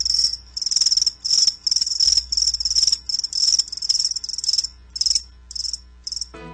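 Loud crickets chirp in dense, rapid trilled bursts that repeat almost without a break, close and clear with no talking, ending in a brief click.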